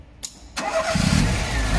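A 1992 Tofaş Şahin car engine cranks briefly in short bursts, then catches and settles into a steady, loud running rumble close by.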